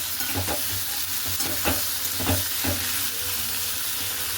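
Steady oily sizzle of potatoes frying with salt and turmeric, with a spatula stirring through them in regular strokes roughly every half second, close and continuous.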